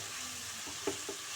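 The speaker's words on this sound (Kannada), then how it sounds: "ಈರುಳ್ಳಿ ಒಂದು ಚೆನ್ನಾಗಿ ಫ್ರೈ ಆಗಬೇಕು." Sliced onions fry in about one and a half teaspoons of oil in a pan, a soft steady sizzle with a couple of brief stirring scrapes near the end, close and fairly quiet.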